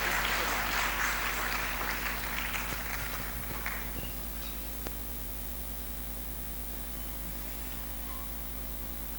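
A church congregation applauds while welcoming a pastor during a service. The clapping is loud and dense at first and thins out after about four seconds, leaving a steady electrical hum.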